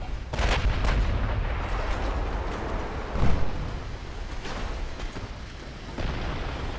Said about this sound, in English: That hit me in the wrong spot. Ammo detonation.